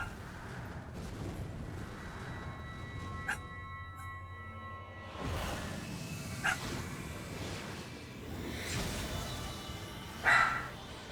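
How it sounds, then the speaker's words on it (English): A dog barks intermittently in the background of a room, the muffled yaps coming in scattered bursts, one louder near the end, beneath a steady low hum. "I apologize for the dog in the background"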